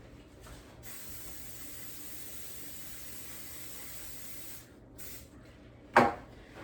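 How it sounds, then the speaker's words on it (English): A long continuous hiss of cooking spray onto a loaf pan over a sink, then a few short spurts, ending with a light knock. "I just like to spray this over the sink"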